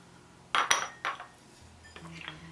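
Green peppers tipped into a Corningware electric pan, a few close clattering knocks of a utensil against the pan followed by softer scraping and light tapping.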